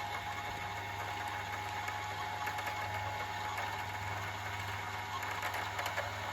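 A sewing machine winds a bobbin, producing a steady, quiet motor whir with a fine rapid mechanical chatter that holds evenly throughout without pause.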